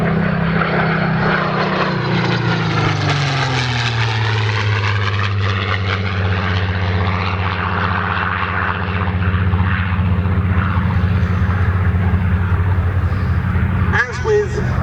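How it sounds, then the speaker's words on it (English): Seafire F.Mk.XVII piston propeller fighter flying a display at Old Warden, a loud continuous engine drone whose pitch falls and shifts as it passes, likely with a commentator talking over it. "now taking its place, the first public flying display since the end of the 2015 season by the Seafire F.Mk.XVII"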